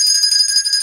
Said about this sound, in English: the Thelma Bell